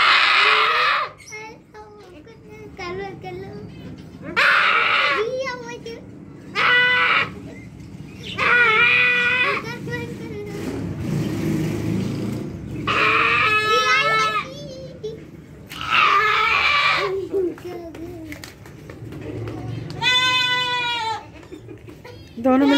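Goats and kids bleat loudly in repeated, wavering cries while being held for vaccination, with pauses of quieter bustle between them and people talking nearby.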